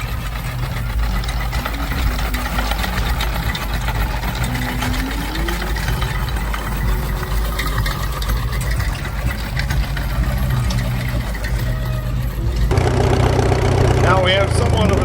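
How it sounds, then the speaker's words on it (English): A Lister stationary gas engine idles at a steam-era show, a steady low rhythmic chugging that runs continuously, with outdoor background noise and some talk nearby. "I think that's a Lister engine here"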